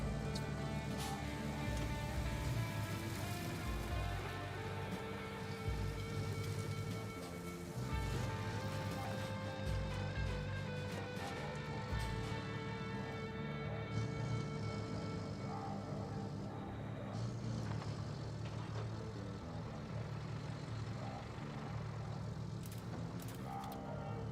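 A vehicle engine idles in the game Roadcraft as a constant low, tonal drone with steady harmonics and faint mechanical rattles, holding an even level throughout with no speech.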